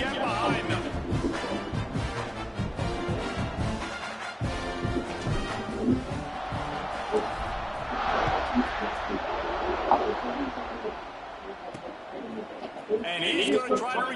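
Stadium crowd noise in a Madden football video game at kickoff, a steady roar of cheering that swells and fades under ongoing commentary voices.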